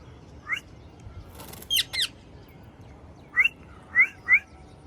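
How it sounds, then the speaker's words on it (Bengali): A pet parrot gives several short, sharp whistled calls, spaced irregularly with brief pauses between them, fairly close and clear over a quiet background. "মিঠু চলে আসো চলে আসো মিঠু পাখি আসো আসো আসো"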